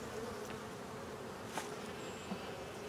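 Honey bees in an opened hive holding Italian stock, a dense steady drone of buzzing wings filling the space close by, with a couple of brief louder passes over the even hum.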